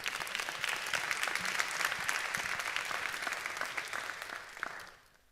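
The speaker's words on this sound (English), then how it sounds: "Please give a round of applause to Rashida Jones." Sustained audience applause for a panelist, the former MSNBC president, at a public media discussion forum, steady and dense for about five seconds before fading quickly to quiet.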